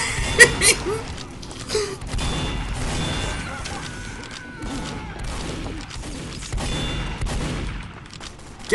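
Gunfire in a Team Fortress 2 match, rapid clusters of shots and impacts popping through a busy battle mix, with players shouting excitedly over the noise.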